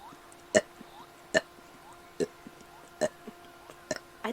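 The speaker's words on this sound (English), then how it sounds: "I'm gonna burp." Seven short burps in a row from a woman, spaced about a second apart, each a quick voiced belch standing out clearly above faint room noise.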